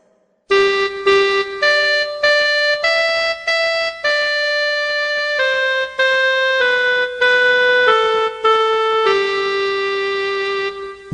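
A clarinet plays a clear, steady run of single notes stepping up and down in an even rhythm, each tone smooth and sustained, heard alone and close.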